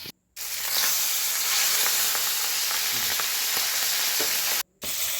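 Hilsa fish coated in turmeric and salt frying in hot mustard oil in a covered pan, a loud steady sizzle and hiss with scattered pops, briefly cut by two short silent gaps.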